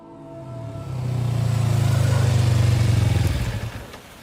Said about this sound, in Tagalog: alam ko na kakayanin pang tumawid ng motorsiklo, kaya idiniretso ko na